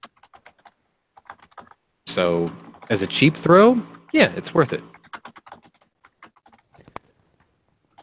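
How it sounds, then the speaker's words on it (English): Rapid typing on a computer keyboard in the background, scattered light clicks throughout, while someone talks briefly over the middle of it. "Someone is furiously typing up there."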